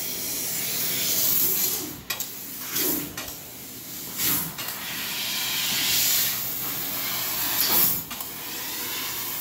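A 500 watt Rose Graphix fiber laser cuts 18 gauge cold rolled steel with a steady, loud broadband hiss, broken by several short pauses and bursts as the cutting head moves between cuts.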